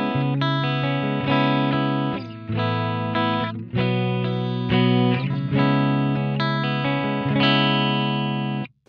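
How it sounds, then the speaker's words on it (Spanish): An electric guitar plays a clean channel with the BOSS Dimension C Waza Craft chorus pedal switched off, strumming a series of bright, sustained chords in a steady progression. It sounds close and fairly loud, with no voices. "primero escuchar la guitarra en canal limpio"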